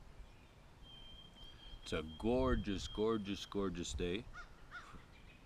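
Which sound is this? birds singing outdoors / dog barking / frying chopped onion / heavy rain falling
birds singing outdoors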